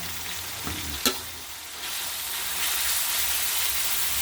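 Minced pork for stir-fried holy basil with glass noodles hits a hot pan with a thud, then a loud, hissing sizzle swells and holds steady, growing stronger toward the end.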